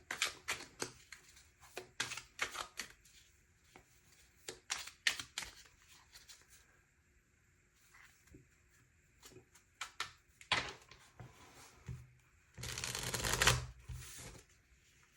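Tarot cards being shuffled by hand: several bursts of quick riffling and soft card slaps separated by pauses, ending in a louder, longer riffle, with no talking.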